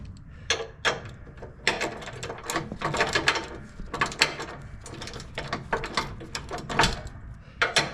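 A socket wrench ratchets on a stud of a John Deere S100 lawn tractor, giving rapid bursts of close, crisp clicking with brief pauses between strokes.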